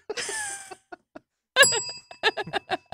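A desk bell rung once, a bright sustained ding with ringing overtones that lingers for about half a second, followed by a second ring and then laughter and voices nearby.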